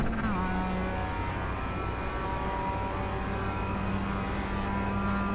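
Race cars roar past at a steady, loud drone with sustained engine tones and a pitch shift at the start, heard from trackside with faint talk in the background.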